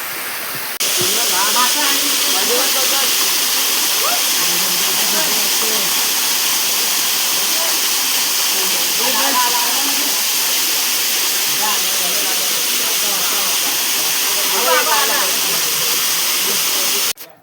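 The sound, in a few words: flowing water in a stream while fishing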